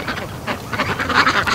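Ducks quacking close by in a breeding pen at dusk, a short burst of several overlapping nasal quacks growing louder toward the end, with no talk.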